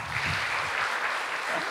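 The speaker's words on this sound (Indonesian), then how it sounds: "Kurang keras tepuk tangannya." Audience applause at a talk for teachers in Indonesia, a steady wash of clapping from a crowd that fills the short stretch without pause, moderately loud and even throughout.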